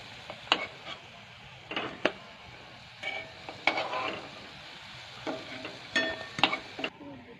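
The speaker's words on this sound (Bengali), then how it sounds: "ঠিক কেমন কালার করে আমি ঠেকুয়াটা ভেজে নিলাম" Thekua pieces frying in hot oil while being turned, with a steady low sizzle punctuated by several sharp scraping and clinking stirs at irregular intervals, fairly quiet and with no talking.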